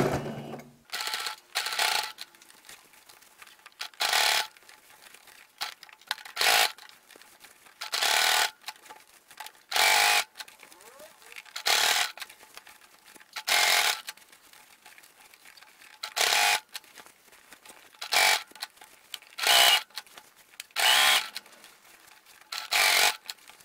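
Bursts of a sewing machine stitching the lining of a fabric organizer bag, about a dozen short runs of rapid needle chatter separated by brief pauses, close and clear with no talking.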